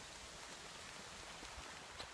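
Rain falling along the bank of the Tisza river, a steady soft hiss of drops with no voices.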